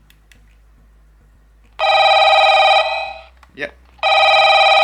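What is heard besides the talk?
Echo Chime300 wireless doorbell telephone signaler ringing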